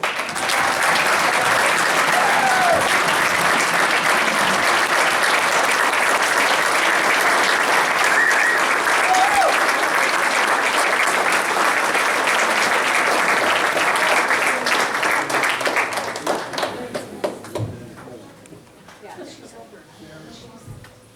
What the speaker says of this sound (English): Let's get some applause for you.